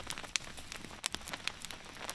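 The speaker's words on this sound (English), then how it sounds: "it's raining" Rain patters at a backcountry canoe campsite, faint scattered drops ticking on surfaces in an irregular rhythm with no voices.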